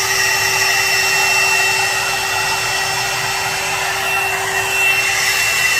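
A 2-in-1 step hair dryer and styler with volumizer blows on wet hair, a loud continuous whirring rush with a steady tonal hum, close and unbroken throughout.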